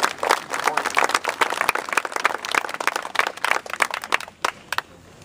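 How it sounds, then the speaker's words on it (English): Audience applause for the staff at a reopening ceremony at the Big House, Malabar Farm State Park: a dense round of many hands clapping, fairly loud and close, thinning out near the end. "let's give a final round of applause for them"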